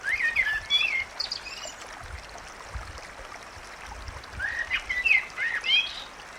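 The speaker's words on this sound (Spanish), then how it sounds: "Los pájaros que la contemplaban al pasar cantaban" Birdsong sound effect in a children's audio story: two bursts of bright chirping, one at the start and one near the end, over a soft watery background hiss.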